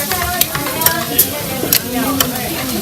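Japchae glass noodles with spinach and scallions are stirred through a hot sizzling pan, a continuous fry hiss broken by a few sharp scraping clinks of the utensil, with no talk.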